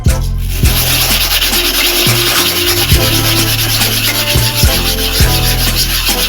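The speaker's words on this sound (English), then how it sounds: "As I'm rubbing, this biscuit bone is still depreciating on the surface of the super hard manual sharpening stone." A clipper blade is rubbed with biscuit bone across a super hard manual sharpening stone, producing a loud, steady, close gritty scraping with continuous back-and-forth rhythm and no talk.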